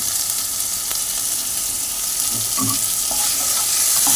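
Chopped ginger frying in a pan for a Bengali papaya and prawn ghonto, with a continuous close sizzle and scattered scraping stirs and spatula clinks.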